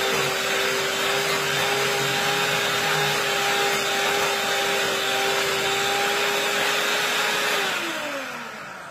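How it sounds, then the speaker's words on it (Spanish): An electric mixer creams cake ingredients, giving a loud steady motor whine with a constant tone that dips and slows as it winds down at the end, with no talking. "Entonces vamos a cremar primero esos dos ingredientes."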